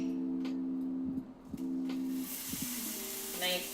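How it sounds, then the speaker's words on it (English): Rabbit loin sizzles in a hot pan with a soft hiss under a steady background hum. The frying swells into a broader, brighter crackle toward the end. "Nice sizzle."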